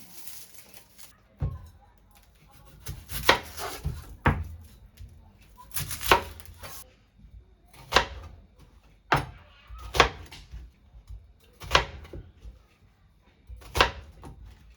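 Vegetables being trimmed and chopped on a cutting board for jajangmyeon, a series of sharp, separate knife knocks at an irregular pace with quiet gaps between them.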